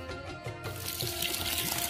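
Tap water runs into a plastic bowl as rice is washed, giving a splashing, gurgling flow that grows fuller and louder after a short start.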